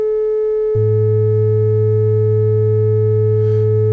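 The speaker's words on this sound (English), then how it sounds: "Here's A440. Here's A110." A steady pure 440 Hz sine tone hums alone, then a much lower 110 Hz sine tone joins it partway through, both holding unchanging to the end.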